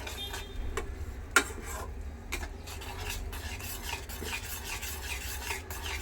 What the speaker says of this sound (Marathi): ह्याला सारखं असं ढवळून घेणार म्हणजे जेणेकरून त्याच्या गुठळ्या होणार नाही